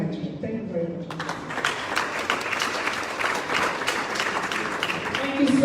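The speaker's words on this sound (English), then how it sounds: "Let's keep the applause going." Audience applause at a #ENDSARS one-year commemorative lecture in Lagos, Nigeria: sustained, dense clapping that swells in after a brief voice and carries steadily to the end, fairly close and loud.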